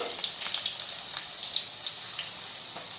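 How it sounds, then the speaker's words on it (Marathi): Chopped onion frying in oil in a cooking pot, a steady close crackling sizzle with small popping bursts throughout, no talking. "इथे कांदा आपला फ्राय होतोय ना"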